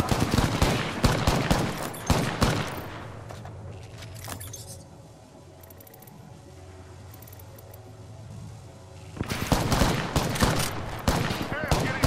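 Incoming gunfire striking the player in Apex Legends, bursts of sharp impacts at the start and again near the end with a quieter stretch between, with talk in between.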